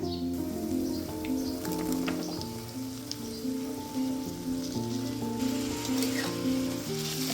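Chopped raw green tomatoes go into onions frying in hot oil, raising a steady crackling sizzle over low tonal background music, with no talk.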